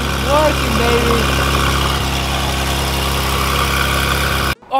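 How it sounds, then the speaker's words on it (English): Stock titanium exhaust on a Porsche GT3 RS idles with a loud, steady engine drone and a brief shout over it at the start, cutting off abruptly just before the end. "that titanium exhaust is working, baby."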